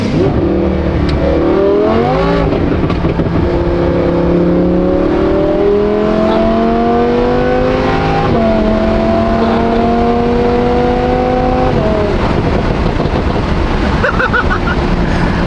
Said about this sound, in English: I might have snaked you with not having cold start on anymore, but you got some revs. Those are loud.